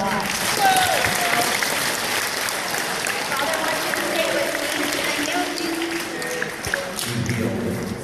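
Audience applause in a church school gathering, continuous clapping from a room of schoolchildren, with voices and crowd noise mixed in over the steady patter.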